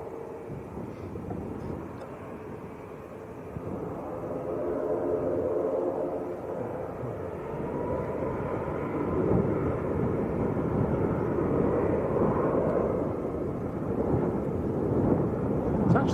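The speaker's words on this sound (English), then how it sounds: "It's actually getting windier" Wind gusting at an airport, a broad rumbling roar buffeting the microphone and rising steadily to a strong continuous blow, with no voices over it.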